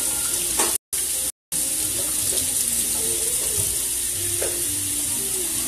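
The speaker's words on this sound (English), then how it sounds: "I'm going to wash my hands again" Tap water runs steadily into a kitchen sink as hands are washed during cooking. The even, close hiss of the stream is broken by two brief silent gaps.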